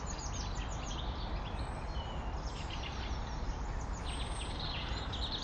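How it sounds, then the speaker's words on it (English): Birds chirping and twittering on a frosty Cotswolds walk, scattered faint calls over a constant broad outdoor hiss, fairly distant and quiet. "Lovely sound of birds just here."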